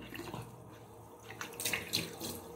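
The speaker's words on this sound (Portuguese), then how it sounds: "Agora coloco a aguinha." Water pours into a cup in a few faint, brief splashing bursts over a quiet room hiss.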